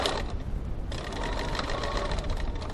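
Sewing machine stitching a boot-shaped gift bag with a 2.6 stitch length: a close, continuous rapid needle chatter running steadily, with a brief slowdown early on before resuming at full speed.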